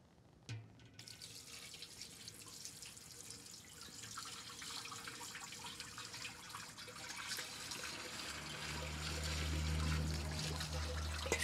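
Water pouring into a home Malinovka autoclave, just enough to cover the heating element, a steady trickle and splash that builds and grows louder toward the end, heard up close without talk.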